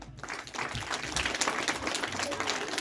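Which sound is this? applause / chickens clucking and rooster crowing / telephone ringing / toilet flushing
applause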